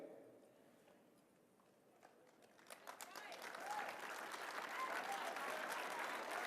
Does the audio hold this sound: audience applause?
yes